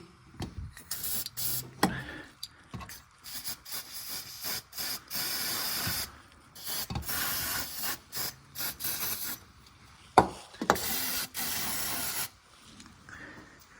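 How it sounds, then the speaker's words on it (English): Repeated bursts of spray grease from an aerosol can hiss in short and longer blasts on a Mk3 Ford Fiesta, separated by pauses, with a clattering knock partway through. "I managed to track down some spray grease, so I'm just gonna gob some on."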